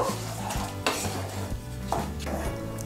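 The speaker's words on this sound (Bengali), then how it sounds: "গুড়, দুধ আর নারকেলটা আমি ভালো করে মিশিয়ে নেব।" A spoon working milk, grated coconut and date palm jaggery together in a pan for kheer puli pitha: steady scraping strokes with a soft sizzle underneath, close and continuous.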